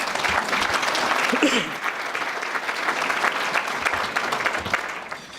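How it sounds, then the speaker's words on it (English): Audience applause at a philanthropy event, a dense continuous patter of many hands clapping at moderate volume with a faint voice briefly heard under it. "So a big round of applause to these 2 gentlemen as well."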